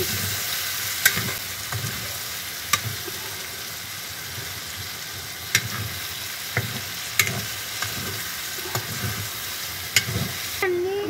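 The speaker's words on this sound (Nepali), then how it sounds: "अब खालि एकछिन चलाइदिनु यसरी" A tomato curry simmers with broth in a pan, bubbling softly under repeated scrapes and clinks from a spoon stirring it at an irregular pace.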